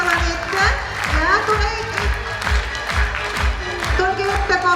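Audience applause at a school Mother's Day concert, a steady, dense round of clapping from a sizable crowd, continuous and fairly loud, with a voice speaking over it.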